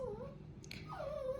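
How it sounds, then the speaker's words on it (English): A dog whimpers in faint, high, wavering whines, with a brief pause between two drawn-out cries. "I'm so sorry about my dogs, guys."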